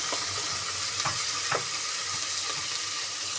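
Ginger garlic paste fries in a pan for a cabbage curry, giving a steady, close sizzle with soft scraping stirs every half second or so, and no talking.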